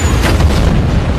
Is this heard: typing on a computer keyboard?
no